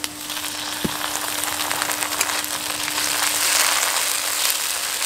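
Ginger-garlic paste sizzles in hot oil over browned onions, a loud steady frying hiss close up with a single sharp pop near the start and crackling that builds slightly.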